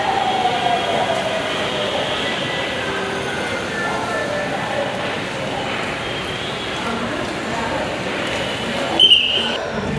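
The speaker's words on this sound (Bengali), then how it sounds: "এই রেলটা চলে যাচ্ছে মতিঝিলের দিকে" A Dhaka metro train rumbles steadily past at close range, a continuous broad roar that holds for the whole stretch, with a brief sharp squeal near the end.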